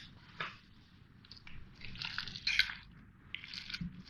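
Chicken, vegetable and mayonnaise sandwich filling being stirred in a bowl, giving soft, wet squishing and light crunchy scrapes close by, with a few louder squelches near the end and no talking.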